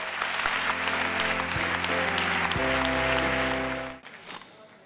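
Audience applause at the Premis Enderrock 2017 music awards gala, rising over sustained music chords, then the music cuts off abruptly near the end, leaving a brief softer tail of clapping.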